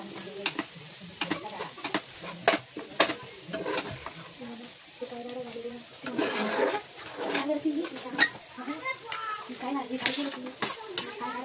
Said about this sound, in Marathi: त्यात आलू चांगले मिक्स करून घ्यायचे.